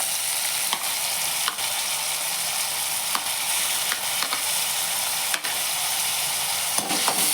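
Capsicum and onion sizzle in butter in a pan, a steady broadband frying hiss with repeated short scraping clicks from a spoon stirring through the vegetables, close and fairly loud throughout.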